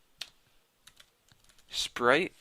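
Light taps on a computer keyboard while entering code for a Cocos2D iPhone sprite tutorial, a few scattered soft clicks followed by a short louder cluster.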